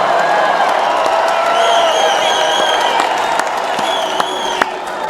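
A huge crowd at a 2017 presidential rally in Phoenix, Arizona cheers and applauds: a loud, steady roar of clapping and voices with whoops and whistles rising through it, continuous from start to finish.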